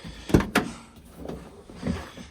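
A kei van's door bangs and latches, two sharp close knocks followed by softer thuds and rattles nearby, with no talk over them.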